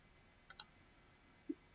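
Faint, close mouse clicks from someone editing a dashboard gauge on a computer: a quick double click followed a second later by a single softer click, over quiet room tone with no talking.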